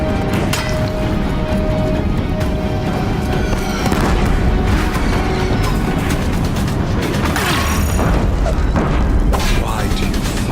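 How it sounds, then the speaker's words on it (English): Deathbringer machines fire in the video game Horizon Zero Dawn, producing loud, continuous blasts and crashing booms with mechanical clatter, while characters talk over the barrage. "If the Deathbringers keep firing, this bridge will go."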